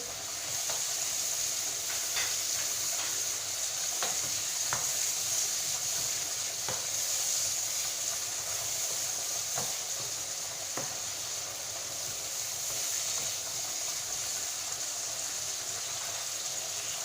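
Tomato fries in a pan with a steady, even sizzle and hiss lasting throughout, close and moderately quiet, with faint scraping and light clicks now and then.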